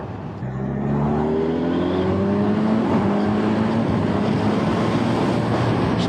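Kawasaki Ninja 1100SX motorcycle riding on a fast B road, its engine droning steadily and rising through the revs, close and continuous with wind rush and no talking.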